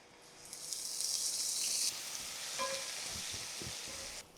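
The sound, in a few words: onion paste frying in a pan with spices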